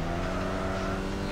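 Engine of an old-school Toyota Supra in the racing game TXR Zero, a steady droning hum held at constant loudness for the whole stretch, with no talk over it.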